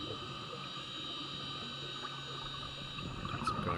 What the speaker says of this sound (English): There's a boat coming by somewhere.